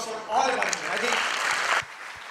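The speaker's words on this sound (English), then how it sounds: "Let's have a big round of applause for all of us." An audience at an engineering mastermind event gives a round of applause, a dense patter of many hands clapping that rises quickly, holds for about a second and a half, then cuts off, leaving faint room sound.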